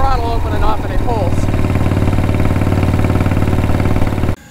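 A Harley-Davidson motorcycle fitted with drag pipes runs with a loud, steady, deep exhaust rumble near the listener. Someone talks over it at first, and the engine sound cuts off abruptly at the end.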